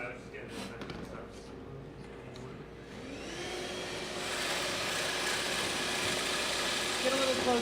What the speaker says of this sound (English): Can I use that vacuum?